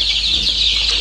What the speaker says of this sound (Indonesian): Dan ini adalah ayam-ayam yang baru.